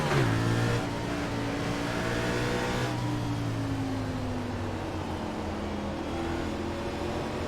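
Race car engines at Martinsville in iRacing, a pack revving hard off the start as one car spins its tires, a steady loud drone with rising and falling engine pitch and no talk.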